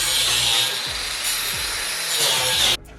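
A saw cuts through the exhaust pipe section between the tips on a BMW N54 exhaust, a steady loud rasping grind running nearly three seconds before stopping abruptly.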